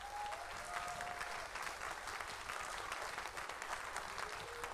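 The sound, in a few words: audience applause for parents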